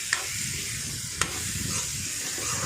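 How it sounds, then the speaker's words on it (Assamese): Cut potatoes frying with spices in hot oil, giving a steady close sizzle with a couple of sharp clicks from stirring, no voices. "কাটি থোৱা আলুখিনি অলপমান ভাজি ল'ব মছলাখিনিৰ লগত।"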